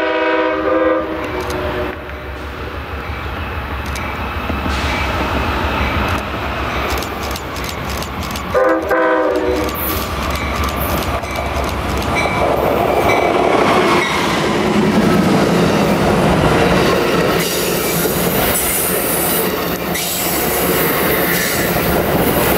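An Amtrak passenger train rumbles past close by at fairly fast speed on a curve of the BNSF Front Range Subdivision, its horn blaring early on, then wheels clattering and squealing as the cars roll through.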